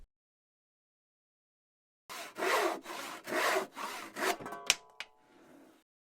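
A hand saw cuts through timber, with five or six long rasping strokes after two seconds of silence, ending with a few short knocks and a fading scrape.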